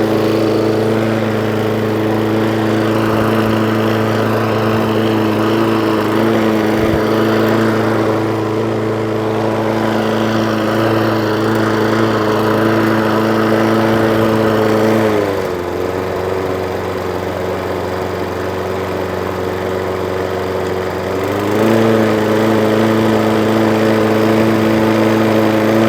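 A Hayter Ranger 53 lawn mower engine, faulty and unable to reach full revs, runs with a steady droning hum. Its pitch dips and softens for several seconds midway, then rises back to its earlier level.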